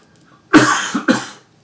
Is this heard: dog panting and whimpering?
no